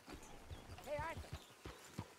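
Horse hooves clip-clop at a slow walking pace in Red Dead Redemption 2, a handful of soft, evenly spaced hoof falls, with a brief whinny-like tone in the middle.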